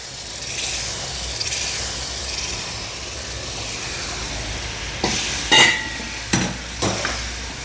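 A cooking mixture for gurudwara-style prasad is stirred in a pot under a soft, steady sizzle and hiss, followed near the end by a few distinct scraping clanks of the spoon against the pot.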